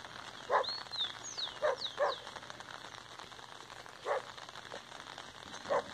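Steady rain falling in hilly countryside, a soft continuous hiss with a few dogs barking in the distance and faint bird calls above it.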